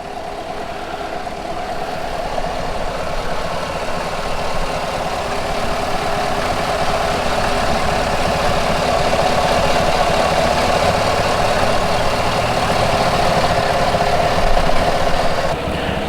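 A gasoline internal combustion car engine idles steadily, a constant low rumble with a faint mechanical hum, unchanging and moderately loud throughout with no voices.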